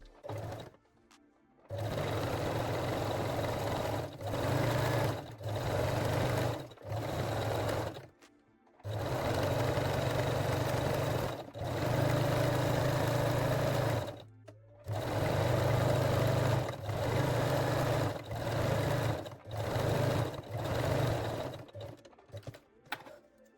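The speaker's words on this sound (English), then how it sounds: "sew it with the zigzag or 3-step zigzag stitch" A sewing machine stitches elastic with a zigzag stitch in several separate bursts, each a steady close whir broken by short pauses where sewing stops.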